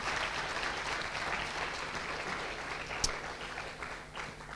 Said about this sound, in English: I'd like to give a small round of applause to Madalena and her team